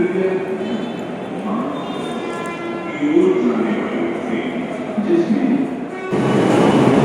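A small four-car metro train in Jaipur rumbles along with a steady mechanical hum and tonal motor whine, while a voice talks over it; a louder rush swells near the end.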